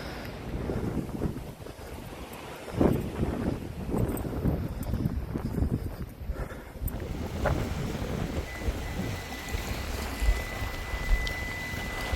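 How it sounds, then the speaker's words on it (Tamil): Strong wind in Wellington, New Zealand, buffeting the microphone in heavy, roaring gusts, with sea waves washing in the background and no talking. "விண்டி வெலிங்டனில் எப்படி காற்றடிக்குது எப்படி அலை அடிக்குது பாருங்க"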